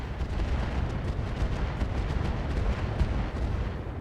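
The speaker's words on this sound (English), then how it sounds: "They're continuing to shoot at the Corsair." Heavy weapons fire pounds the Corsair mech in RogueTech, a dense, continuous barrage of booming shots and impacts at steady loudness with no pauses.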